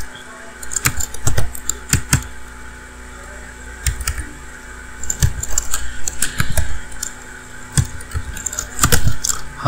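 Typing on a computer keyboard while entering purchase order details, with irregular bursts of key clicks over a steady fan hum.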